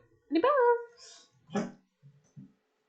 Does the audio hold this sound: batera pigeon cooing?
no